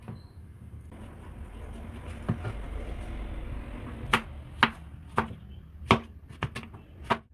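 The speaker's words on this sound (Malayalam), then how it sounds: "ആദ്യം ക്യാരറ്റ് വേകുന്ന സമയം കൊണ്ട് പപ്പായയെ കട്ട് ചെയ്ത് വയ്ക്കാം" A knife chops papaya into pieces on a board, with a run of sharp, close taps that get more distinct and evenly spaced toward the end.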